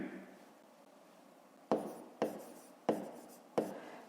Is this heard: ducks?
no